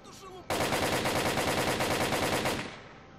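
Rapid automatic gunfire in the game S.T.A.L.K.E.R. (Call of Chernobyl mod), a steady burst of evenly spaced shots lasting about two seconds, loud and close, then trailing off.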